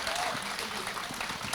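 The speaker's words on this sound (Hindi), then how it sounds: "एक बार ज़ोरदार तालियां अपने लिए।" An audience at a women's mushaira poetry event at Jashn-e-Adab 2023 gives a short burst of lively clapping, mixed with a voice speaking over it.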